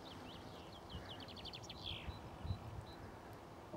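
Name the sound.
chaffinch song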